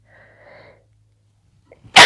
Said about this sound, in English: think I might be sneezing.